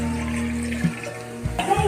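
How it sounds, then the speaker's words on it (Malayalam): Water poured from a glass onto fresh bilimbi fruit for juice, a short pour with a ringing tone that shifts in pitch, close and clear with no talking. "പിന്നെ ഒരു ഗ്ലാസ് വെള്ളം ഒഴിക്കാം."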